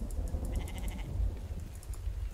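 A goat in the video game The Infected bleats in a short series of wavering calls over a low, rumbling ambient background, moderately close and fairly quiet.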